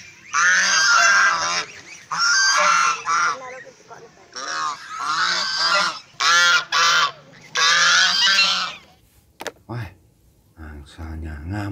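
Goose honking in a video game, loud repeated harsh honks in bursts with short gaps, close and dominant, fading to scattered sounds near the end.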